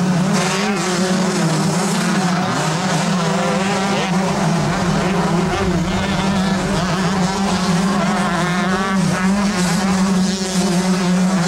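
125cc motocross bikes racing at the 1986 Southwick AMA National in Massachusetts, their engines making a steady, droning buzz that holds loud and unbroken throughout, with an announcer's voice over the top.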